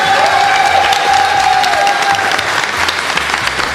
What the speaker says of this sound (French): à la technique, qu'on peut vraiment applaudir